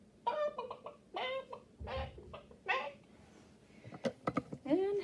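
A storyteller's voice imitates a mother hen clucking, producing a run of short, pitched clucks in bursts with brief pauses, close and clear, followed by a few sharper clicks.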